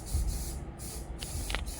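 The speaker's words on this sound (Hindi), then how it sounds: "थोड़ा सा स्प्रे करेंगे।" Continuous hiss of hair spray misted onto a messy hair bun, a couple of steady bursts with brief pauses between them, close and fairly loud.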